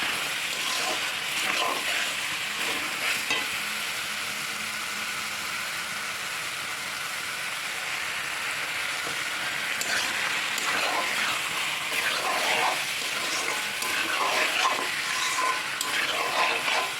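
Goat mutton curry with salt and turmeric fries in a pan, giving a steady close sizzle with occasional scraping stirs throughout.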